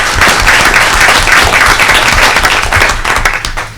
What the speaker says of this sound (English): I do really want to give an extra hand of applause to Nancy for your leadership.